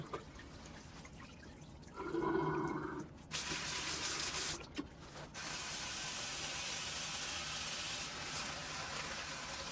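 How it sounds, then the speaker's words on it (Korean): Water running and splashing as a dress shirt is rinsed by hand, a steady rushing flow with brief handling noises and short gaps, close and alone. "이제 물을 비우고 한 번 더 헹궈 주겠습니다"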